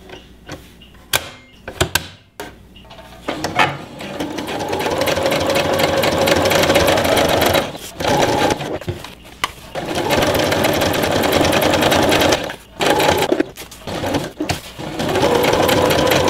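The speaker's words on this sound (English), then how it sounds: "I'm just using my regular small household machine for this. It has no problem sewing this stuff." A small regular household sewing machine stitches heavy blackout cover fabric for a stove jack, loud and close, running in long steady whirring bursts separated by brief stops and clicks.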